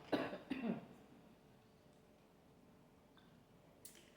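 A person coughs twice in quick succession at close range, sharp and fairly loud, followed by a quiet room with faint background hiss.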